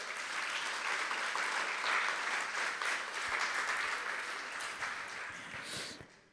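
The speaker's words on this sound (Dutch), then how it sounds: "Mag ik nogmaals een applaus?" An audience at a Black Achievement Month talk gives sustained applause, a steady dense clatter of many hands that fades out near the end.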